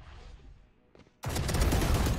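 A shotgun fires in a video game, a sudden loud blast after a quiet moment followed by a dense burst of gunfire noise that continues to the end.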